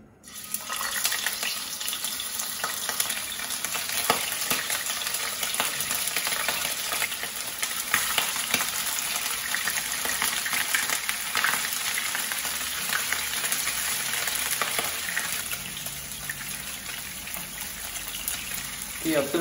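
Steady, crackling sizzle of hairtail fish shallow frying in oil in a pan runs throughout at an even level, a dense hiss with scattered pops, close up.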